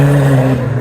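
Diesel car leaving a car meet, its engine holding a loud, steady low revving drone for under a second.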